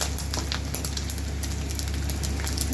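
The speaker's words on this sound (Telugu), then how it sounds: "గోల్డెన్ బ్రౌన్ వచ్చేంత వరకు మనం మెత్తలో ఫ్రై చేసుకోవాలి" Dry fish and onions frying in a pan for a Telugu curry give a steady crackling sizzle with quick popping spatters over a low hum, with no voices.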